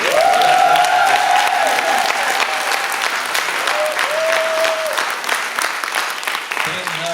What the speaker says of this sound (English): That was a good hand clap,